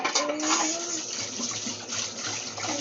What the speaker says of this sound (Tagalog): maghuhugas na po ako ng kamay.